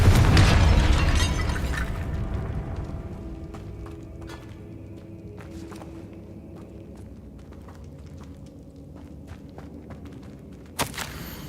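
An explosive spell blast bursts loudly at the start in the Hogwarts Legacy video game, then rumbles and fades under scattered footsteps and small thuds.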